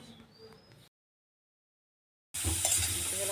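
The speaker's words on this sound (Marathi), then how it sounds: "आपण आता हा खीस चांगला तुपात परतून घेऊया" Grated bottle gourd sautéing in ghee for dudhi halwa gives a steady, close sizzle with stirring scrapes, broken by a silent gap in the middle before the frying returns louder.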